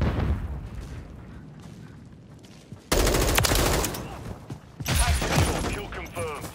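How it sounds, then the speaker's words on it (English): A stun grenade bursts in a Call of Duty Kill Confirmed match, a sharp boom cutting in around midway and again later, amid rattling automatic gunfire, with a voice calling out beneath. "Throw in a stun grenade!"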